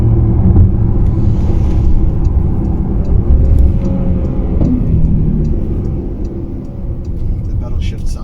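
A 2021 Porsche Panamera engine drones loud and steady from inside the cabin through quick paddle gear shifts, a low continuous rumble with voices talking over it.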